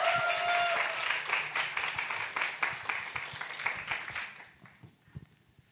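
A church congregation claps and cheers to welcome a preacher to the front, a loud burst of applause with a few whoops that gradually thins out and fades toward silence.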